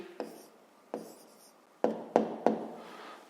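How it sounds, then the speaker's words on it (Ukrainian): A pen writes down the answer to a school math exercise in short scratchy strokes, about five separate bursts with quiet gaps between them. The sound is close and fairly soft, with no talk. "Ну що ж, записуємо тоді відповідь."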